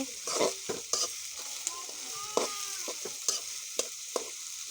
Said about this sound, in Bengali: ভালো করে এটা নেড়ে চেড়ে নেব।